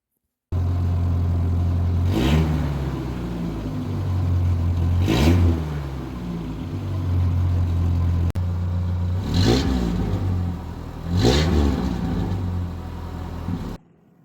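A pickup truck's exhaust with a gutted catalytic converter idles with a low rumble and rises in four loud revs, each swelling and falling back, close by with no talk.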